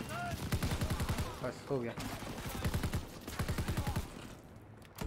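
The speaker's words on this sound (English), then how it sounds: "I should hold a machine gun now." Rapid machine gun fire in the World War II shooter game Call of Duty WW2 comes in quick repeated bursts, quiet overall and partly under someone talking.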